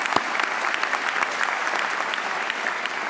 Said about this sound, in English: So just a round of applause, first of all,